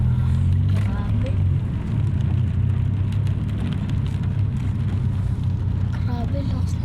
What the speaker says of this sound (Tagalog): Grabe, lakas ng ulan no.